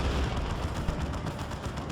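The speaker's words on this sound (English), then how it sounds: "And down it takes the Death Dread with its main cannon" A Baneblade tank's main cannon firing in Dawn of War 2 Retribution, dense rumbling battle din of booming blasts and gunfire, loud and continuous without pause.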